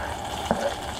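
Garlic sizzles in hot, lightly smoking oil, a soft, steady crackling fry with a small pop or two over its brief length.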